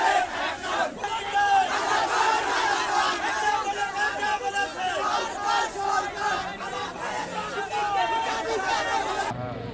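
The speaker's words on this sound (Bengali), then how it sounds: "তাদের এই আন্দোলনে বেশ কয়েকজন সাধারণ মানুষেরও একাগ্রতা প্রকাশ করে স্লোগান দিতে দেখা গেছে।" Protesting students and other people in a large crowd chant slogans against the quota system in Jessore, a loud massed roar of voices rising and falling continuously, with shouting and babble throughout.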